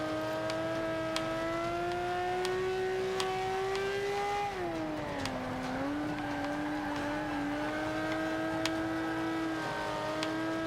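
Ferrari 250 California engine in the Forza 5 racing game, holding a steady mid-revving drone that dips and shifts around the five-second mark before settling again, continuous and close, with no talk.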